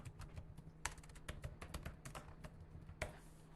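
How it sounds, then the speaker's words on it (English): Rapid clicking of a computer keyboard as a residential street address is typed into an online dog license form, with irregular bursts of keystrokes and a few sharper taps, close and fairly quiet over a low steady hum. "And so we would just start typing in the address."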